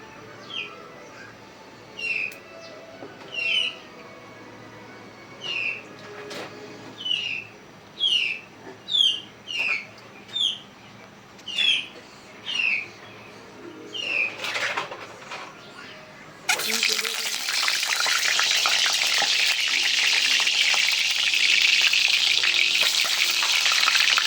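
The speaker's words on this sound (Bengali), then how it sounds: "আমার কড়াই গরম হয়ে গেছে, এখন আমি তেল দিব।" Oil sizzles loudly in a hot pan for cooking eggs, a sudden bright crackling hiss that starts after a stretch of chirping birds in the background.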